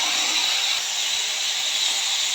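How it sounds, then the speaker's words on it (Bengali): Potatoes frying in a pan for a Bengali potato dish, with tomato puree just poured in, giving a steady, loud, close sizzling hiss that runs unbroken throughout. "আমি এবার এই টমেটো পিউরেটা দিয়ে দেব।"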